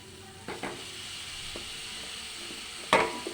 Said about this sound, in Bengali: কষানো হয়ে গেছে, এবার কুমড়োটা দিয়ে দিচ্ছি।